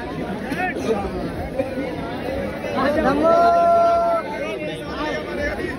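Dense crowd chatter fills busy Sarojini market on a winter shopping day: many overlapping voices close and far, a steady babble that swells briefly midway, with one nearby voice rising above the rest.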